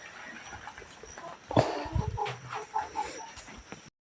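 A country chicken (nati koli) clucks in a few short, soft bursts against a quiet outdoor background, with one sharper squawk partway through.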